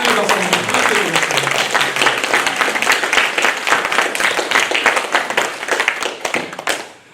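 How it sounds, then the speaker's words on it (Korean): Church congregation clapping during a Sunday worship service, dense lively applause close by, with some voices mixed in, tapering off and ending near the close. "우리 한번 좀 사랑의 박수 한번 부탁드리겠습니다."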